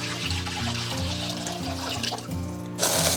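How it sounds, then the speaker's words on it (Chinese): Clean water poured into a wok over a thin layer of leftover oil from frying shallots, a steady splashing pour running throughout with a louder rush near the end, close and alone. "倒清水烧开"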